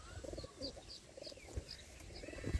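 Soft, repeated low cooing of a Tolgoram pigeon in a regular rhythm, with faint chirps from other birds scattered above it.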